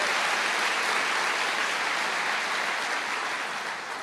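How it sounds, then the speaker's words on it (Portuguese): A church congregation claps loudly and continuously for a few seconds in honour of staff members, a dense, even wash of applause with no speech over it. "Dando uma salva de palmas, agradecendo a Deus pela vida delas."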